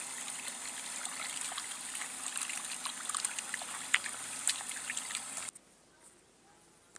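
Tap water runs steadily over freshly harvested cucumbers being washed, a continuous splashing trickle that cuts off abruptly near the end, leaving quiet room tone.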